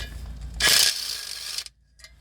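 A quick burst of ratchet clicking while a 9mm sunflower socket works near the crankshaft sensor on a 2012 Volkswagen Golf, close and loud, lasting about a second before stopping.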